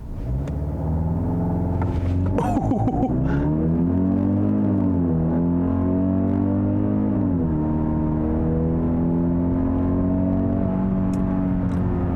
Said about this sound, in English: this four-cylinder pulls, and it pulls extremely hard